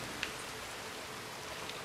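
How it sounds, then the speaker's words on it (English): Rain falls steadily in the open-world western game Red Dead Redemption 2, a soft even hiss with a few faint drop ticks, quiet and without talk. "Oh, it's raining though."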